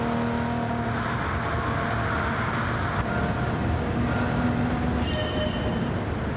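Race car engine in Gran Turismo 7 on an Italian circuit, a steady loud drone with sustained harmonic tones running throughout, rising slightly near the end, with no talk.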